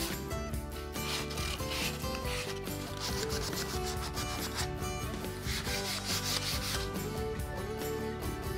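Sandpaper rubs back and forth over the edges of a wooden foot stool top in quick repeated passes, a loud, close, rhythmic scratchy rasp filling the whole stretch with no talking.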